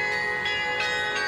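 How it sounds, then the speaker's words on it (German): Carillon bells of the Herentals belfry tower pealing over the town, a rich ringing sustained tone with repeated struck strikes roughly every third of a second, loud and resonant with no talking. "erhielt der Turm ein leichtes Glockenspiel, das seither zu jeder Stunde hoch über der Stadt erklingt"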